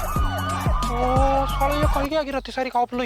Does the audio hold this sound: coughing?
no